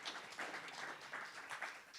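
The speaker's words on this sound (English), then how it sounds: "Give them another round of applause." A round of applause at a town hall meeting, a soft, steady spatter of clapping from the audience, faint and somewhat distant.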